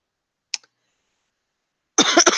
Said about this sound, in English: Sorry, I got a little bit of a cough today.